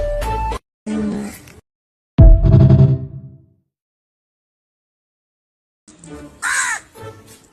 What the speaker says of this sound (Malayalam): ആ കാക്കയോട് മിണ്ടാതിരിക്കാൻ പറ